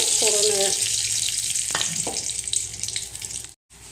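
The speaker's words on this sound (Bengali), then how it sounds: "এখন এখানে দিচ্ছি এলাচ, দারচিনি, তেজপাতা দিয়ে" Whole cardamom, cinnamon and bay leaf sizzle in hot oil in a kadai while chicken is being prepared, a steady bright frying hiss running throughout with a few clinks, cutting out briefly near the end.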